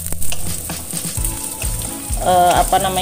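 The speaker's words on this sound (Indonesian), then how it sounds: "cukup bawang merahnya itu digoreng seperti ini, lalu nanti ditumis beserta" Shallots frying in hot oil for a beef rawon give a close, steady sizzle, with scattered clinks and scrapes of stirring and a brief louder crackle near the end.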